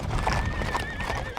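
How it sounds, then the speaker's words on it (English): Horses on the move during a horse drive neigh loudly and close while hooves clip-clop underneath in a steady busy patter. "the horses are on the move"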